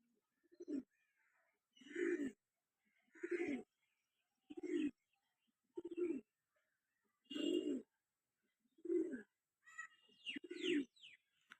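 A female Jiriya pigeon gives about eight low, throaty coos at a fairly even pace, each a short separate burst, close by in a quiet setting.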